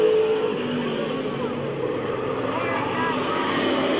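Race cars roar around the oval at Midvale Speedway in 1998, a steady, loud engine drone with rising and falling pitch as cars pass, heard from a distance.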